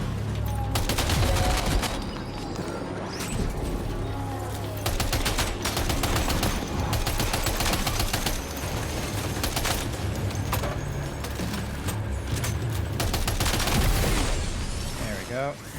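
Rapid bursts of heavy gunfire from a chiral anti-material gun in the video game Death Stranding 2: On The Beach, dense and loud throughout, with repeated volleys layered over game ambience and some speech.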